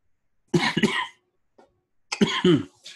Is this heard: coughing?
yes